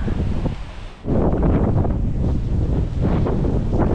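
Strong gusting wind from an approaching typhoon buffets the microphone with loud, roaring rumbles, easing briefly before surging back in sustained heavy blasts.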